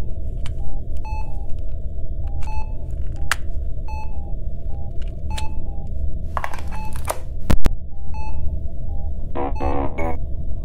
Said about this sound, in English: What were those beeps?